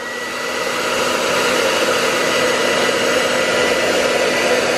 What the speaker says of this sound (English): You heat it up with the hairdryer.